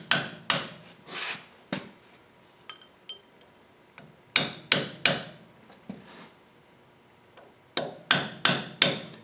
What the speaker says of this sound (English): I'm just going to use a punch and very gently work it around.